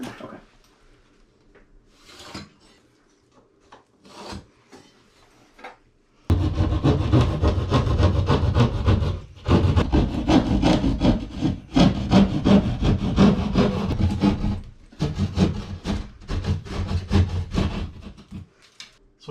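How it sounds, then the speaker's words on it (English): A handheld drywall saw cuts an opening in drywall during a hall bathroom remodel, heard as steady rhythmic rasping strokes up close, following a few seconds of quiet handling knocks. "we'll mark this out and cut that with a drywall saw"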